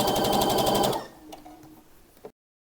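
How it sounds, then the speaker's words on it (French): A sewing machine stitching a fabric waistband runs loudly at a fast steady rhythm for about a second, then stops, leaving faint clicks and handling before silence. "Je couds ma ceinture."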